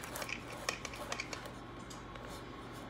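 A regular teaspoon scrapes and taps against a cake pan while spreading vanilla cake batter, a few quiet metallic clicks and light scraping over a faint background hum.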